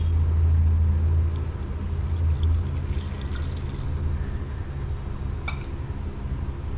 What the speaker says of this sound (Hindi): जो हमने दूध निकाल के रखा था हम अब इसको दूध को डालेंगे